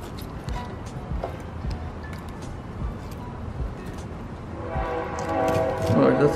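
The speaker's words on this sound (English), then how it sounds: "That's nice, the train." A train rumbles past at a distance outdoors while crappie are being cleaned, its steady rolling noise building toward a horn blast near the end.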